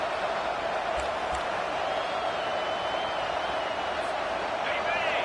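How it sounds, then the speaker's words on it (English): Stadium crowd at a football game on third down, a loud continuous roar of massed voices rising in volume, steady and dense throughout. "Decibels rising as the crowd gets behind this defense on third down"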